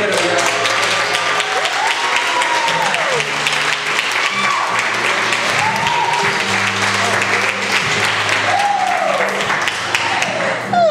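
Sustained audience applause and clapping for a storytelling performer at a live event, steady and loud throughout, with scattered voices in the crowd.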